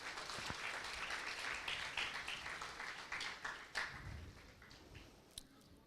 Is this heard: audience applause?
yes